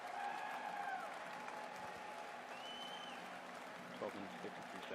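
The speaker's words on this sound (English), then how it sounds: "there's cheering." A crowd at a New Glenn rocket launch watch party cheers and applauds, a steady wash of distant clapping and cheering with voices mixed in.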